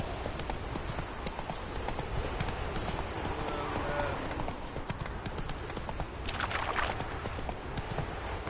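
Roach the horse gallops in The Witcher, hooves clip-clopping in a steady, fast rhythm close by, with game ambience underneath and a brief brighter burst near the end.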